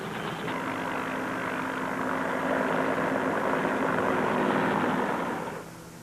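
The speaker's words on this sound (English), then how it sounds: "Fleets of helicopters lift men and artillery into the hills surrounding the base" Military helicopters lifting troops and artillery into the hills around the Khe Sanh base in Vietnam, a loud, steady rotor and engine roar that holds for several seconds and then fades slightly at the end.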